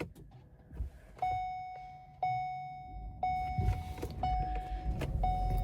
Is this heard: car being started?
yes